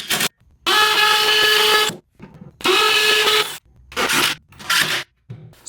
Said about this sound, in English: I'm screwing it to the wall, just to be really sure